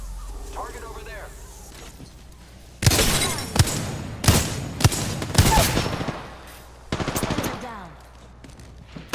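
Automatic gunfire in Apex Legends: several loud bursts of rapid shots in quick succession with short pauses between them, close and punchy, and a brief spoken word over the action.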